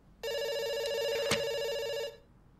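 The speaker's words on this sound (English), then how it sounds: "It's ringing." A telephone rings once in the video game Dr. Langeskov, a bright, trilling bell tone lasting about two seconds, clear and fairly close, then silence.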